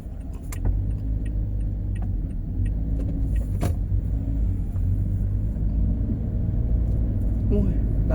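Car on a dark early-morning road in Chiang Mai making a U-turn, a steady close engine rumble with a few clicks and knocks from inside the cabin, no clear talk.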